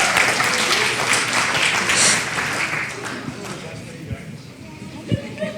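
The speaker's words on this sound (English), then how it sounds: "let's give a big round of applause for her." Audience applause at a Chinmaya annual day event, a loud, full crowd clapping that tapers off into a few scattered claps, with voices talking underneath.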